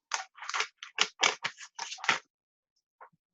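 Scissors snip out a stamped paper image, giving a close, crisp series of about eight quick cuts in a steady rhythm, then a pause and one last faint snip, with no talking.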